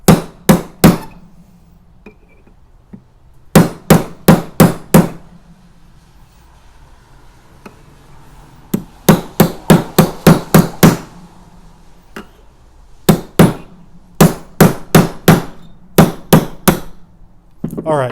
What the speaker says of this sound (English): Let's flip it over and strike it here.